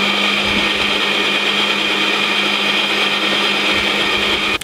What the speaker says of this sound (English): I literally just turn it upside down, ready to be whisked up by the machine